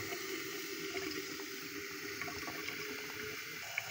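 Water is poured into a container for making tea, making a faint, steady watery rush with a few small clinks, with no talking.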